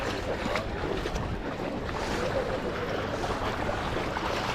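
Surf at Las Vistas Beach, Tenerife, with a wave washing in along the water's edge as a broad, steady wash of water and wind noise that stays close and loud throughout.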